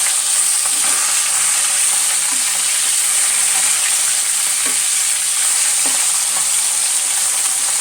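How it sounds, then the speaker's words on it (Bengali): Fish pieces fry in oil in a pan, a loud, continuous sizzle with faint scattered pops and crackles throughout, no voices. "আমি অল্প অল্প করে মাছগুলো ভেজে নিব"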